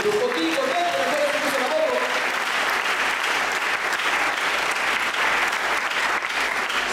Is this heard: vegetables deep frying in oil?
no